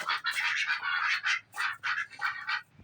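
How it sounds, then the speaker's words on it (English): Ducks being fed lettuce give close, loud bursts of repeated quacking that overlap in an uneven rhythm with short gaps between calls. "Time to feed the duckies."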